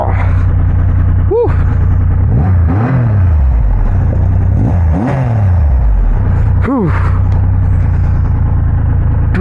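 A 2500cc superbike engine starts and runs loud and close, its revs rising and falling in several sweeping bursts over a steady idle.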